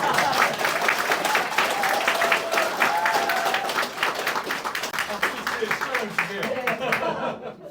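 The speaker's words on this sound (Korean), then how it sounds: "그러면 박수 치시죠." A campaign rally crowd in Daedeok-gu breaks into sustained applause, dense and steady clapping that fills the whole stretch, with a voice calling out over it early on before the clapping thins slightly toward the end.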